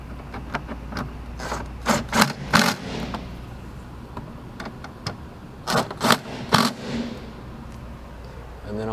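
Bolts on a Mk1 VW Tiguan door are run in and tightened, heard as clustered bursts of close ratcheting clicks separated by pauses, over a low steady hum.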